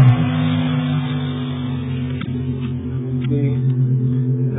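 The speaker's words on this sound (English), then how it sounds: "a little sound test from the engine bay and from outside the car" A Hyundai Tiburon four-cylinder engine with an aftermarket intake, header and full exhaust idles in a steady, loud, low drone. The note holds even for several seconds on a cold day, with only slight wavering.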